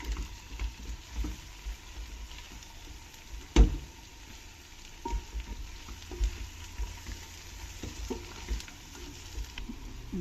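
Sprouts and vegetables with paneer fry and sizzle in a pan for sprouts biryani, a soft steady crackle with occasional clinks and scrapes of stirring, fairly faint and close.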